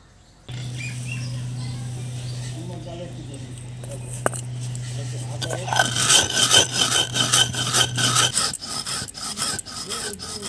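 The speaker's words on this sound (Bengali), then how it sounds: "প্রথমে আমরা চিনি গুঁড়ো করে নেব।" Sugar being ground into powder, likely in a kitchen grinder, gives a steady hum for several seconds, then a louder rough rasping, scraping whirr in pulsing bursts near the end.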